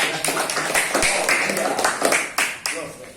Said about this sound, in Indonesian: tepuk aplaus lah buat kawan kita